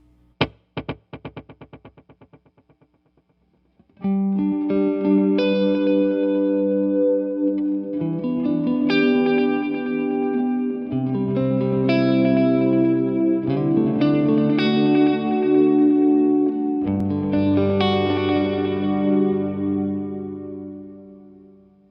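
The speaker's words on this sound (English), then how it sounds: "the repeats are going to kind of cascade or fold over each other and then dissipate" An electric guitar plays through a delay effect, its notes repeating and piling over each other into a shimmering wash that slowly fades.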